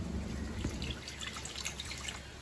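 Water poured into a mixer jar holding a ground biryani masala paste for Bangalore donne biryani, a steady close trickle and drip running throughout without speech.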